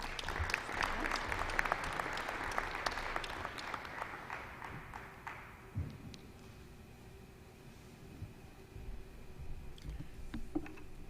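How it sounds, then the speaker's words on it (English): An audience at a university commencement ceremony claps in a dense burst of applause that thins out after a few seconds into scattered, fading claps. "it deserves a little more applause"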